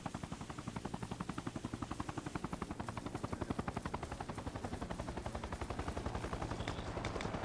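Sustained automatic gunfire in Arma Reforger runs as a rapid, even rattle of shots for several seconds, loud and continuous with no talking over it.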